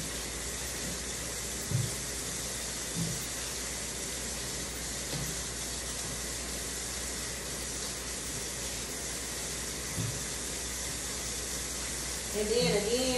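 Water runs steadily from a tap with a continuous hiss, broken by a few soft knocks and splashes as fish is rinsed beneath it.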